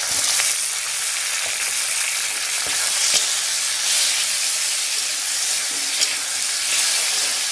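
Tomatoes fry loudly in a pan for a Bengali fish curry, a dense continuous sizzle and hiss with occasional faint spatula scrapes while they are stirred, close and steady throughout, with no speech.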